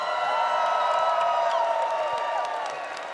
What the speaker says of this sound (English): Can we give them all a huge round of applause